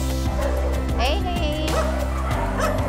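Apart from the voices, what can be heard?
many dogs barking at an animal rescue compound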